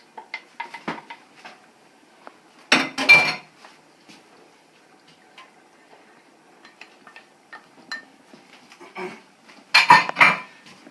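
Rice and black beans being stirred in a pot, with scattered light clinks and scrapes of a utensil against the metal and two louder bursts of clattering.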